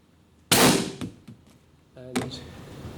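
A bottle of ethyne gas ignited, giving a sudden loud sharp bang that fades over half a second, followed by a few smaller knocks and a second, weaker burst.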